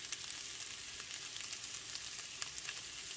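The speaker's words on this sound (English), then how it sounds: "And of course I have to saute it" Potatoes with turmeric and red chili flakes sauté in a pan, giving a steady, close sizzle with soft crackles throughout and no voices.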